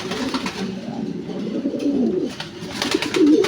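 Soft, low pigeon coos repeat steadily nearby, layered over a constant background hiss, with no talking.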